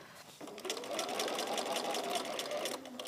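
A sewing machine stitches through a layered quilt with a rapid, steady mechanical whir that speeds up partway through. The sound is close and fairly soft.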